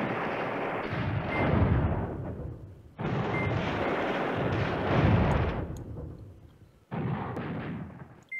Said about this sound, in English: We have an airstrike. Okay, good. Let's drop it over there.